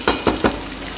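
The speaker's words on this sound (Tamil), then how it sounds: "அதனால் அந்த ஒரு வடகத்தையும் போட்டுட்டு நல்லா ஃப்ரை பண்ணுவோம்." Onion vadagam frying in hot oil for a fish curry, with three quick, close stirring strokes scraping through a steady sizzle in about a second.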